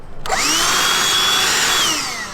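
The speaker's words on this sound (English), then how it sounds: "Let's get drilling some more." A power drill whines loudly at close range, its pitch holding steady then sliding down as it bites into metal while installing a Maxx Air fan.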